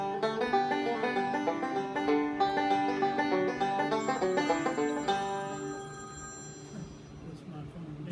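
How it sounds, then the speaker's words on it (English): A phone rings with sustained, bell-like electronic tones that rise above a run of musical notes and then ring on alone for a few seconds, close and moderately loud. "That's my phone, and it's nobody."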